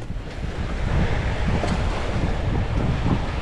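Ocean waves and wind on a beach along packed-down sand, a loud steady wash of surf with gusty wind buffeting the microphone throughout, no voices.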